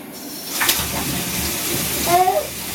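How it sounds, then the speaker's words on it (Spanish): Cold water running into a bathtub, a loud steady gush from the tap with some splashing, close by, with a voice faintly audible underneath. "Vamos a poner un poco de agua fría."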